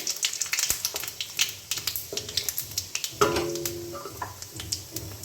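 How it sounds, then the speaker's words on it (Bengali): Dried red chilli, bay leaf and five-spice (panch phoron) stirred in hot oil in a pan, giving a steady crackling sizzle dotted with quick ticks and spatters, plus a couple of louder metallic clinks from the spoon. "তারপরে তেজপাতা এবং তারপরে 5 ফোড়ন দিয়ে একটু ভালো করে নেড়ে নেব"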